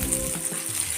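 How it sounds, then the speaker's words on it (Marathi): Roasted peanuts are fried in oil in a pan for green chilli thecha, giving a steady, loud sizzle with faint crackling and stirring that fills the whole short moment without any talk. "थोडेसे तेलात परतून घेऊया"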